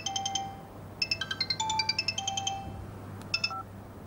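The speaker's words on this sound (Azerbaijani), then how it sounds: "Telefonun zəng çalır." A phone rings indoors with bright electronic ringtone tones in several short bursts, clear and close, with no talking.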